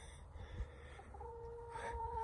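Chickens in a backyard coop near the woods give soft clucking calls, with a brief higher call near the end, heard close over a low outdoor rumble.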